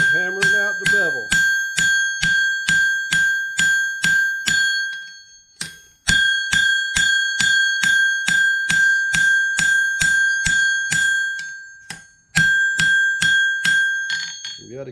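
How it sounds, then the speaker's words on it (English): A hammer strikes a hot steel horseshoe on an anvil while the bevel of a knife is forged, giving steady ringing blows in quick even rhythm with brief pauses between runs, and someone speaks near the start. "Start hammering out the bevel."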